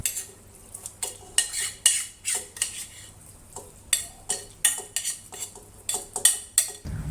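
Spoon stirring softened tomato mixture into cooked dal in a metal pot, a steady rhythm of loud clinks and scrapes about twice a second, close up with no talking.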